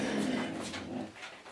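A dog pants loudly and closely in quick breathy puffs, with a faint whimper mixed in and no clear barks, during a dog training session in a spot with other dogs around, and no voices.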